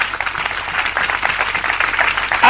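A church congregation breaks into steady, dense applause, many hands clapping together and close by for a couple of seconds.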